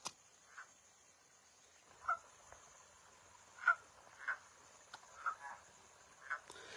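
Frogs call from the dark in a quiet outdoor setting, giving about seven short croaks spaced at irregular intervals, each brief and moderately close against a faint steady insect hum.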